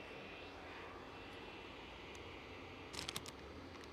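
A Loganair ATR turboprop airliner drones steadily on approach at Aberdeen airport, a faint distant engine hum throughout, with a brief cluster of clicks near the end.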